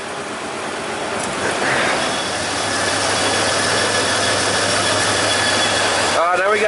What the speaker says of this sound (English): put in gear and engine brake it